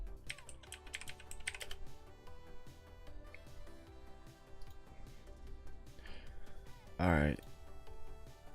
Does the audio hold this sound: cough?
no